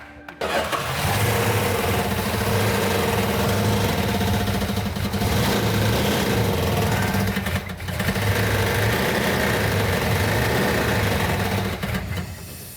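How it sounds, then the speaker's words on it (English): A Plymouth Cuda car engine runs loudly and steadily, with a rough, pulsing rumble, metallic knocking and brief dips in the noise. "The engine is making a metallic knocking sound."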